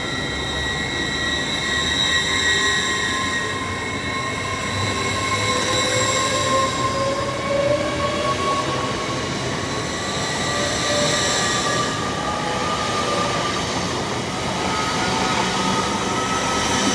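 A Class 950 train passes through Newark Northgate station, a loud steady roar of wheels and rail with high metallic squeals and tonal whines sustained throughout, close by and unaccompanied by speech.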